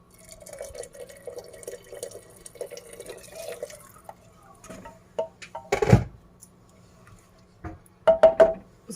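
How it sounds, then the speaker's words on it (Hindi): Hot water is poured into a potato curry gravy in a pressure cooker, heard as scattered drips and splashes, then a louder watery burst followed by a few closer splashes. "उसके बाद हम इसमें गर्म पानी डालेंगे।"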